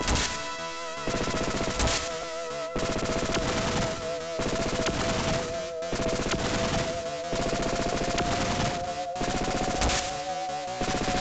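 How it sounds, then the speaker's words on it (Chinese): Triple machine cannon on an assault plane boss in Contra: Hard Corps, a relentless stream of rapid, loud gunfire bursts layered over a constant buzzing game tone, repeating in short clustered volleys with brief gaps. "敌人是突袭战机 Assault Plane， 3连机关炮会发射3发子弹。"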